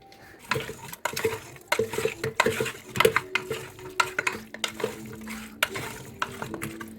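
Spices and Kashmiri chili being stirred in mustard oil in a pan for mutton curry, with repeated scraping and clinking strokes of a spoon against the pan over a soft, steady sizzle, close and fairly loud, with no voices.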